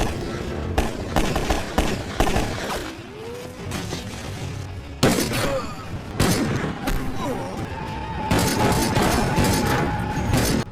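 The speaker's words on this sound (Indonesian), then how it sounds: "tiba-tiba mobilnya meledak. Lalu disusul segerombolan orang bertato yang menembakkan senjatanya ke arah John" Car explosion followed by tattooed gang gunfire in an action movie: a heavy boom and bursts of shots over a loud, busy film soundtrack with voices.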